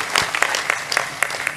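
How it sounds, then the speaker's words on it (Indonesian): A crowd at an Indonesian religious talk bursts into brief, dense applause, many hands clapping together loudly and close for under two seconds. "lu tepuk sing banter gak usah sungkan-sungkan."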